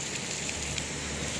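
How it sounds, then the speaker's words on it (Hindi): Heavy rain pours steadily in Dubai, a dense, even hiss with scattered drops, close and loud, without talking. "रात 1 बजे से बारिश हो रही है"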